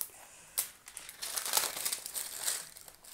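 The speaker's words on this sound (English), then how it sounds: "let's remove all those stickers so we'll have a better look at it" Protective plastic stickers peeled from a Roccat ISKU keyboard give close, crisp crinkling and crackling, with a sharp rip near the start and then continuous uneven rustling for about three seconds.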